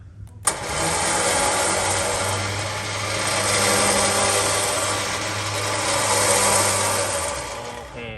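A wireless remote-controlled electric winch on a Mitsubishi Triton 2021, rated around 5 tons, retracts its line with a steady, loud motor whine and grinding hum, starting abruptly after a brief click and running continuously close by.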